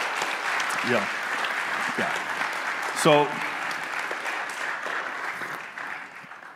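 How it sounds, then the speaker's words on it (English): A church congregation applauds a serving couple, steady dense clapping filling the room throughout, with brief voices and one louder exclamation rising over it. "Would you give them a round of applause?"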